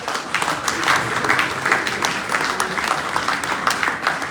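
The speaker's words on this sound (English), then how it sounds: "Please give a big hand clap." Audience applause at a medical excellence awards ceremony in Liberia, a steady, moderately loud patter of many hands clapping that carries evenly through the whole stretch without any talk over it.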